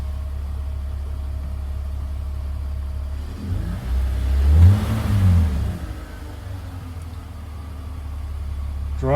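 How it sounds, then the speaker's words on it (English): A BMW E46 330ci engine idles steadily, then swells briefly as the throttle is stabbed, rising to a short rev around the middle before settling back to a steady idle, loud and close with no talk. "Let's stab the throttle a bit"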